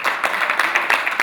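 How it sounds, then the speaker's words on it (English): Applause from the audience at the launch of the Caribbean Alternative Investment Association: loud, dense, close clapping from many hands, with no talk over it. "Give yourselves a round of applause."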